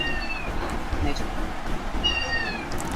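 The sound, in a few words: cat meowing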